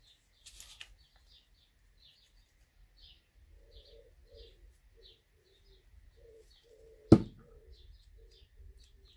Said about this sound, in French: Vous entendez la tourterelle?